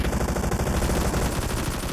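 Sustained automatic gunfire in PUBG Mobile during a team deathmatch, a dense rapid rattle of shots filling the whole two seconds, loud and close with no pauses.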